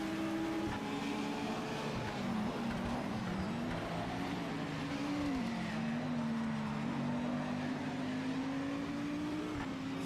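Race cars, including a Porsche, roar through a racing sim with a steady droning engine note that rises and falls as they shift and accelerate, loud and continuous throughout.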